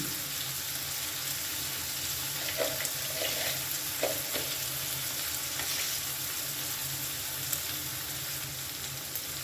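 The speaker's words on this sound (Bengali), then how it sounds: "পেঁয়াজ ভাজার সময় এখানে আমি দেব সামান্য একটু চিনি" Onions with a little sugar sizzle steadily in a hot pan, a constant crackling fry with a few brief clinks of stirring.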